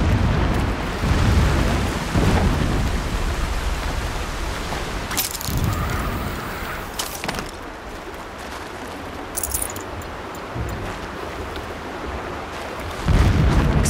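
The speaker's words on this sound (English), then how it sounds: "Explosions in the distance." Distant explosions rumble in the Horizon Zero Dawn game world, a long low roar with heavy booming swells near the start and end, broad and far off like rolling thunder, with no talk over it.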